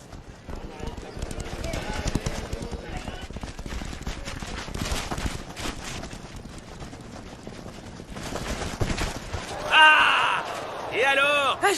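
Horses gallop in a race, a dense rapid drumming of hooves with crowd noise and voices over it, swelling louder toward the finish.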